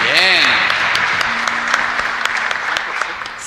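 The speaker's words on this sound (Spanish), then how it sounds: "San Baltasar, fuerte aplauso para San Baltasar." A church congregation at Mass applauds a named parish group in a sustained round of clapping, with a loud voice heard over the applause at the start.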